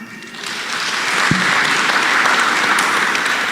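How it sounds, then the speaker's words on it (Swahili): A church congregation at a live Kikuyu-language service applauds a graduating member, steady loud clapping from many hands swelling after the first half second and sustained throughout, with a brief low thump partway. "Tumpigie makofi."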